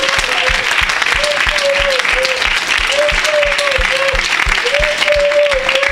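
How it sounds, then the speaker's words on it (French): A church congregation clapping in rhythm for Jesus, a loud steady beat of many hands with a voice sustaining a sung or shouted tone over it. "acclamer pour Jésus?"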